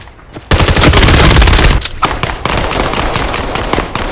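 Rapid bursts of APC9 Pro gunfire crackle loudly in a Vail VR team deathmatch, with a dense automatic volley followed by further shots and game noise.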